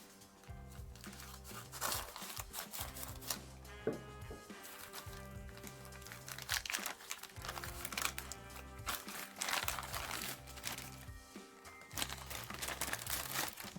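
A cardboard parcel from the National Bank, holding a commemorative coin, is cut open with scissors: steady crinkling and crunching of packaging, close and continuous, over background music.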